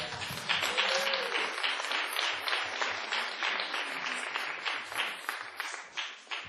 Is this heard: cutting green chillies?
no